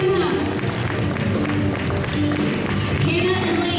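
A church congregation at a Hmong New Year celebration gives couples a steady round of applause, with dense, continuous clapping and crowd murmur at a constant level throughout.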